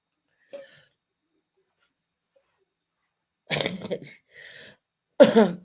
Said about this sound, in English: I have a really chesty cough